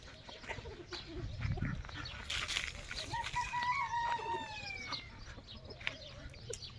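A Pakistani breed rooster (Shamo type) crows in a rising, drawn-out call mid-clip, with low clucking and scattered farmyard noise around it, moderately near and fairly quiet.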